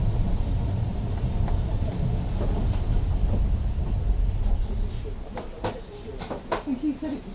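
A tram runs on its overhead wire with rumbling wheels and rail noise, occasional squeals and clicks, and people talking over it.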